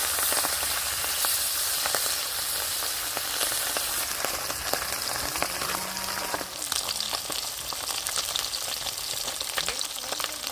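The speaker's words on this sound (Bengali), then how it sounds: "দিয়ে দেবো সর্ষের তেল মাছগুলো ভেজে নেবো" Pabda fish frying in mustard oil in a village-style kitchen makes a dense, continuous sizzle with rapid crackling pops like rain on a surface. The sound stays close and even throughout, with no voices.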